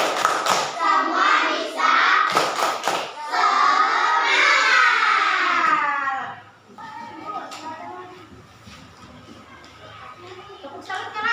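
Primary school children in a classroom clap in quick rhythmic bursts as part of a group chant. Loud young voices shout along, then the room quiets to a softer murmur.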